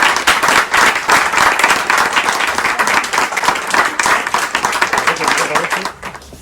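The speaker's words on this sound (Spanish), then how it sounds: "para quien ya les voy a pedir un caluroso y fuerte aplauso" Warm, sustained audience applause at a Spanish book presentation, many hands clapping loudly and densely for several seconds before tapering off abruptly near the end.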